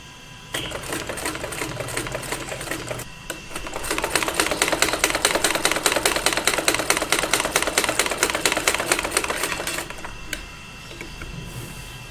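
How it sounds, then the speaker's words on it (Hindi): Sewing machine stitching cloth for a men's suit. The motor hums at the start, then a rapid, even, close needle clatter runs for about six seconds before slowing and stopping, with no speech. "कपड़े को इस तरह से रखकर ये एक पाँव का मार्जिन पर हम सिलाई लगाएंगे।"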